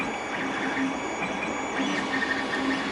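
A Creality 3D printer works through a model, its stepper motors whining in steady pitched tones that rise and shift as the head moves, with a soft mechanical hum underneath and no voices.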